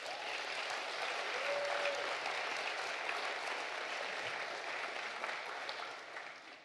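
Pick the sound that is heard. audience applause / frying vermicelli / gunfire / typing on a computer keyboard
audience applause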